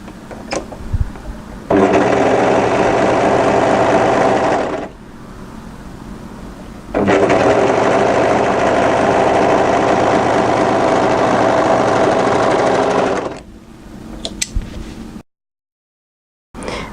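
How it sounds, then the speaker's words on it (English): An overlocker serges the neckline of a crossover cowl top in two loud, steady machine runs of about three and six seconds, with quiet handling noises between and after. "So now we're going to overlock the neckline."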